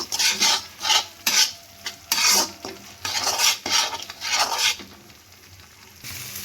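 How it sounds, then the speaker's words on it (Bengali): Potatoes being stirred with spices in a pan for Kashmiri aloo dum, rhythmic scraping strokes of a utensil against the metal over a soft sizzle, a dozen or so close sweeps before easing off. "এবার সব আবার একসাথে ভালো করে মিশিয়ে নেব মশলার সঙ্গে"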